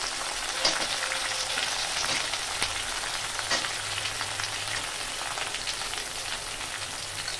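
Eggplant and other vegetables sizzle steadily in a hot frying pan, a dense continuous frying hiss with a few faint clinks, close and loud throughout.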